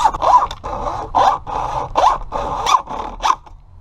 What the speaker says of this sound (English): all we need to cut it is a regular old hacksaw. Now we're just going to cut through the metal part